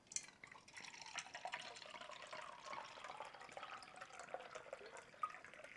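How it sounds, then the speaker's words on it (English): Kangen water pours into a glass holding a little tea, a faint, steady trickle and splash lasting several seconds with no talk. "Watch what happens when we add the Kangen microclustered water."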